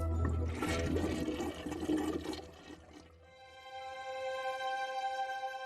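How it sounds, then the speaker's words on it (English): A toilet flushes close by with a loud rushing gush of water, then drains into a quieter, steady hiss of the tank refilling. "they would have enjoyed a flushing loo"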